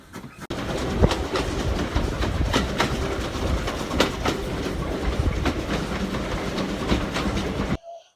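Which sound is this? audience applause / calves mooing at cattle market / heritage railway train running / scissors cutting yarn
heritage railway train running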